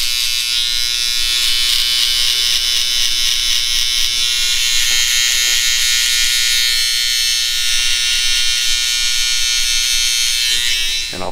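Electric hair trimmer buzzing steadily up close against the skin during a buzz cut, a loud continuous whine with no talking.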